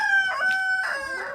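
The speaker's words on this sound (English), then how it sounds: "Here's our chickens. Leghorns, how are you guys doing?" Leghorn chickens in a coop with a nesting box, a close rooster-like crow and clucking calls over about a second and a half.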